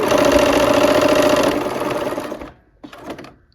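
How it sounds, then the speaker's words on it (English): A sewing machine stitches quilt strips together, running steadily and loudly for about two and a half seconds before slowing to a stop, then giving a brief second burst. "we're going to get started sewing those strips together"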